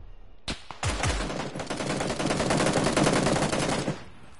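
Rapid automatic gunfire in a battle royale game, a sustained burst of closely spaced shots lasting several seconds after a few single cracks, loud and dominant with no talk over it.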